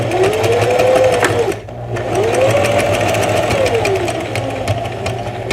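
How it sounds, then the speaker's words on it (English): A sewing machine stitches fabric for a wallet, running in a loud, close, steady whirring hum that rises and falls in speed, with a brief stop partway through. "line up your sewing machine foot with the line, the center line, and sew along, making sure to back stitch at the beginning and the end."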